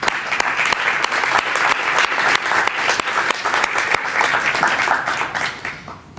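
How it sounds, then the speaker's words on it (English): An audience at a City of Bethlehem West Broad Street announcement breaks into lively applause, dense hand clapping from a nearby crowd holding steady for about six seconds, then tapering off. "We need to give you a big round of applause."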